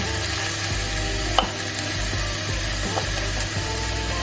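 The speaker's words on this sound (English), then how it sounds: "Stir that through. And to add your chilies and your garlic." Chilli and garlic being stirred in a hot frying pan for chilli con carne, with a steady close sizzle and occasional soft scrapes of the spoon against the pan, no talking.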